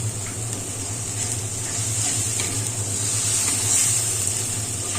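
Spices and masala sizzle in oil in a clay pot, a steady close-up frying hiss with a low constant hum underneath and no talking.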